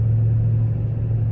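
Steady low engine rumble and road drone from inside a moving car, continuous and fairly loud with no voices.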